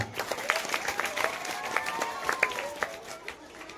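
A school audience applauds at a farewell ceremony for a retiring superintendent, a moderate spread of scattered clapping filling the hall, with voices faintly underneath.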